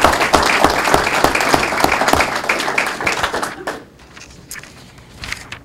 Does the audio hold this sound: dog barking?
no